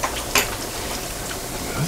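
Shallots sizzling in a pan while cooking clams with linguine, a steady bright crackle with a brief louder clatter near the start, close by and continuous.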